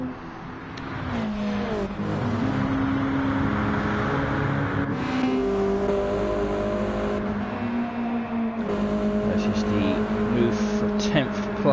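Race car engines in a racing video game, including a newer Subaru BRZ GT300 against an older WRX on the Tokyo Expressway, drone loudly and steadily with shifting revs and a shift change midway, under continuous commentary.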